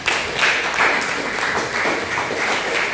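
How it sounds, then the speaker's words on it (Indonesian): A church congregation applauds, steady dense clapping at moderate volume filling the whole moment with no talk over it. "Tepuk tangan besar semua."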